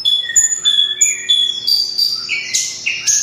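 A singing bushlark (beranjangan) delivers a loud, close series of bright whistled notes and trills in short repeated phrases, with no other voices.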